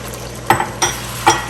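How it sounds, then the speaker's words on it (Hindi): Ginger garlic paste fries in a pan for rajma, a soft sizzle broken by three sharp spatula scrapes and stirs in quick succession. "और थोड़ा सा इसको भूनेंगे ताकि हमारा अदरक लहसुन का जो पेस्ट है वो इसमें अच्छे से शामिल हो जाए"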